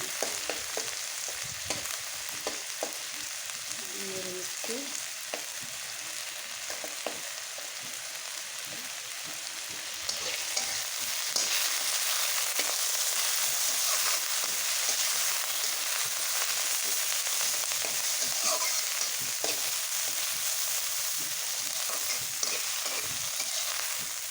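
White cumin and spices crackle and sizzle in a pan while being stirred, a steady close frying hiss that grows a little louder partway through.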